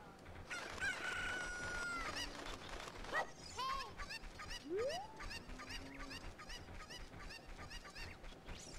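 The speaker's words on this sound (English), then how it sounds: "Hit the chicken!" Chickens clucking and squawking in a Legend of Zelda game, with honking, crowing-like calls and rising and falling squawks over a busy background, one bird call sweeping sharply upward near the middle.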